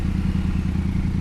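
A motorcycle engine idles and revs steadily at close range with a low, throbbing hum and a faint mechanical clatter, the rider a learner out on the road.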